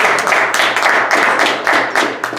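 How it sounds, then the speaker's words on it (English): Meeting audience applauding, a short burst of close, crisp hand claps with a loose, uneven rhythm that thins slightly toward the end. "How about we give him a big round of applause,"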